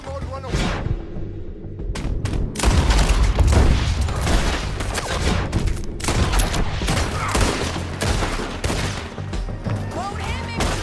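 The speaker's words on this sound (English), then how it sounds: "Artillery!" Heavy artillery barrage and gunfire in the Red Dead Redemption 2 video game, loud booms and crackling shots running continuously and densely, with a voice talking in places.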